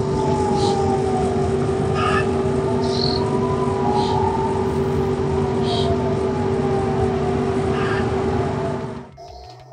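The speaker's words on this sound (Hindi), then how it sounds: "पूरे इजराइल में जो है सायरन बज रहा है" Air raid sirens sound across Israel during Yemeni attacks, a steady, wavering rising-and-falling wail heard from afar with faint chirping around it, cutting off near the end.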